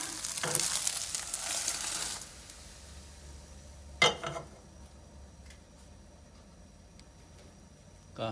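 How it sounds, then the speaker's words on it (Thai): Garlic frying in a small amount of oil in a pan, a steady sizzle that is loud at first, then settles to a quieter crackle, with a brief stir or clatter partway through. "ใส่กระเทียมเจียว เออกระเทียมลงไปเจียว"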